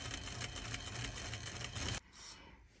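Sewing machine runs steadily, stitching bias binding close to the edge of a denim jacket. The fast, even whirring is loud and near, then stops abruptly partway through, leaving quiet room tone.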